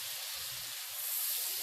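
Blended onion and garlic sautéing in a pan for feijoada, a steady close hiss and sizzle that swells slightly partway through, with no talking.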